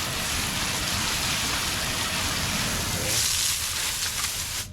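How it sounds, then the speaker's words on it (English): Steady hiss of water spray rinsing a car wheel during cleaning, broadband and constant throughout, slightly brighter and splashier near the end. "We'll rinse this one off first"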